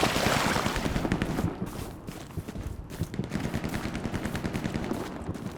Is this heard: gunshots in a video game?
yes